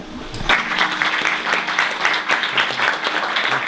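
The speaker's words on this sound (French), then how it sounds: "je vous demande de l'applaudir" Press conference audience applauds an author, a steady crowd of hands clapping at moderate loudness for several seconds, with a faint voice underneath at the start.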